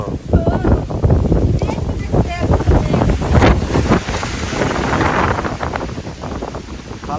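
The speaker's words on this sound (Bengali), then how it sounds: "ঝড় চলে এসছে তো" Storm wind blows steadily and loudly outdoors, a dense rushing roar buffeting the microphone throughout, with rumbling gusts and no clear pauses.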